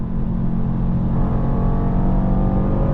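Mercedes GLE 63 S AMG V8 pulling at full throttle on the German Autobahn, a deep continuous engine roar heard from inside the cabin, steady and loud with faint rising pitch.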